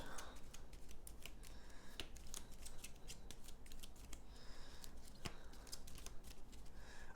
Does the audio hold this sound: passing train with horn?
no